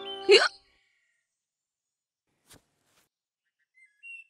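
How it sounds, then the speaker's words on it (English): A single loud cartoon hiccup pops out at the start of a Caillou animated episode, followed by near silence with only a couple of faint, brief sounds later. "Hiccups all gone?"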